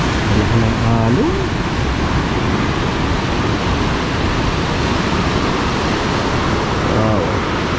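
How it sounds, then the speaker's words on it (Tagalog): Big ocean waves wash onto the shore in a constant broad roar, loud and close, with a brief voice heard near the start and again near the end. "Malaki ng alon."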